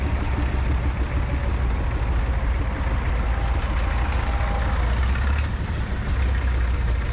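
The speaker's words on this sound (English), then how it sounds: "we've got an E27N here that's got a diesel conversion engine and a Perkins L4 engine" A Fordson E27N tractor fitted with a Perkins L4 diesel conversion engine runs steadily at close range, a continuous low, throbbing diesel rumble with no talk over it.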